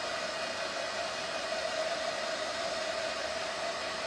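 A handheld dryer blows steadily to dry a craft piece, a constant close whooshing hiss with a faint motor whine and no pauses or talk.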